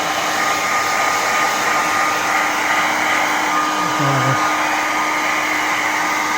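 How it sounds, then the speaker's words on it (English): A hair dryer blows continuously at close range over a leather Chesterfield being restored, a loud steady whooshing hum with no pauses from start to finish. "With a hairdryer."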